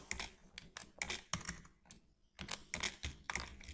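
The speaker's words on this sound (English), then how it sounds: "let's press spacebar 2-3 times" Keys clack on a computer keyboard while a letter is typed and spaced out in Word, in quick close bursts with short pauses between them, alone without any talking.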